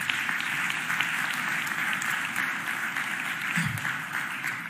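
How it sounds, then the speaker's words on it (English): An audience at a city budget address applauds steadily, a dense, even wash of many hands clapping from a large crowd that holds at a constant level throughout. "Please give our workforce a round of applause."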